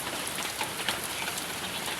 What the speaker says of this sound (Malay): Hujan dari semalam, tak berhenti hujan.